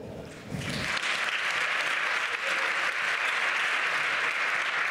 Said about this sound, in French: Je vous propose d'applaudir Julien Perrault.